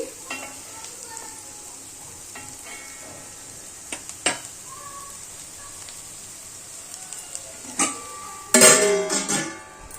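Bitter gourd curry (pulusu) sizzles in a pan while being stirred, with scattered scraping taps and a louder, busier burst of stirring and crackling near the end.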